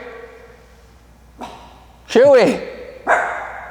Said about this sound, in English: Chewy, no barking.